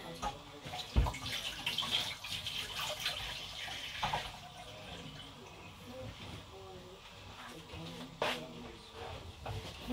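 Kitchen tap running while dishes are washed: a steady, moderate hiss of flowing water with occasional sharp clinks, while someone talks over it.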